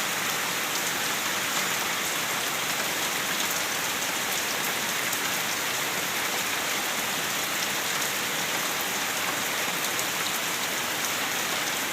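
Steady, dense rain falls close by, an even hiss of drops hitting surfaces with no pauses and no voices.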